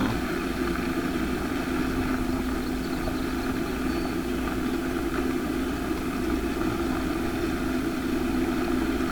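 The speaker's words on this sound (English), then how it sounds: "4430 John Deere will always be my favorite tractor" A John Deere 4430 tractor engine running steadily at a constant idle-like drone, a dense unchanging rumble with a humming tone, close and continuous throughout with no talk.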